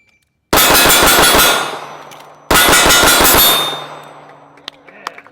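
Pistol fired rapidly in a competition shooting demo: two loud close strings of evenly spaced shots separated by a short pause, each ringing off with metallic clangs from steel targets.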